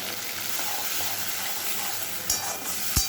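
Banana flower with coriander sautés in a pan for a prawn dish, a close, steady sizzle and fry with a couple of sharp clanks of a utensil near the end.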